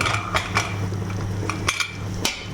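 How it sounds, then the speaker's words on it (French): A small cocotte cooking pot gets its lid set on, several sharp metallic clinks and knocks of lid against pot over a steady low hum, close and fairly loud, with no talk. "Je vais fermer ma petite cocotte."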